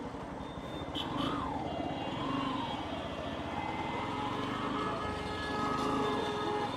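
A new Yamaha FZX motorcycle runs with a steady, even engine drone and faint wavering whine, heard close and continuous without speech.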